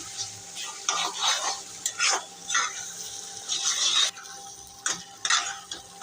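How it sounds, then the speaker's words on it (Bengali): Blended dried chepa shutki with chili and garlic, plus fried onion, sizzles in a pan while a spoon stirs and scrapes it in repeated bursts, close and moderately loud, with no talking. "ছেড়ে দিয়ে এখন ভাজা ভাজা করব।"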